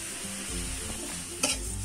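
Sugar is stirred into a bottle gourd and milk mixture in a pan for tricolour barfi, a brief burst of soft stirring and gentle sizzling with one short scrape near the end.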